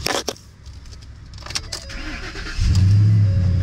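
A 2012 Ford F-250 pickup truck with about 60,000 miles starts on a cold morning: handling clicks and rustles, then the engine catches at about 2.6 seconds and settles into a loud, steady, deep idle close by.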